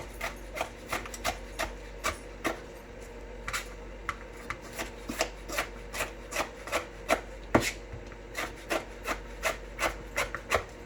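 A knife mincing Brussels sprouts on a cutting board, steady crisp taps repeating at an even quick rhythm, close and fairly quiet with no talking.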